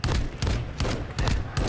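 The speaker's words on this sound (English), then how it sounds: "And I think shots from the wall bangs are coming through." Rapid bursts of gunfire from a Call of Duty esports match fire through walls in loud, close volleys, roughly four or five clustered blasts in quick rhythm with no pauses.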